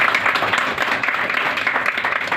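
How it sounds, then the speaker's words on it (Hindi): A room of Class 9 chemistry students claps for a classmate: a dense, steady patter of many hands, fairly close and even throughout, with no break. "इनके लिए ताली बजाइए।"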